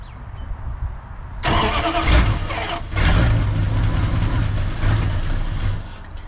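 An old Dodge Ramcharger engine cranking over, a loud rhythmic starter churn that surges and continues for several seconds without catching, close up, with a brief voice in the background.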